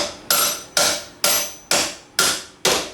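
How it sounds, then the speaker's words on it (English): A Banshee axle bearing is driven into its seat with six evenly spaced hammer blows. Each strike lands as a sharp metallic knock that decays quickly, and no one talks over it. "Listen for that solid thunk."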